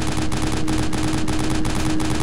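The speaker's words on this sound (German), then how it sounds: "Schießen wir mal, bis sie sich überhitzt." A mounted stationary gun in the Terminator 3 video game fires nonstop, a loud, close hammering of rapid shots in a fast, even rhythm with no pauses.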